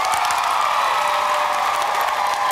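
A theatre audience at an awards ceremony breaks into steady applause with some cheering and whoops, a broad continuous wash of clapping at even loudness throughout.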